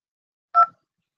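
A single brief telephone keypad tone, a crisp dual-pitch beep heard alone, pressed to send an incoming call to voicemail.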